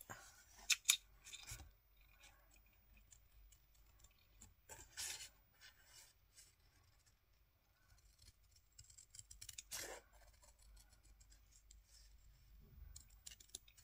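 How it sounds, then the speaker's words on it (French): Scissors cut paper down to a small scrapbooking format, making crisp snipping strokes in uneven bursts with soft rustles of paper between them, close and fairly quiet, with no speech. "on va prendre un ciseau. Et on va venir tout simplement découper notre petit format à la bonne taille."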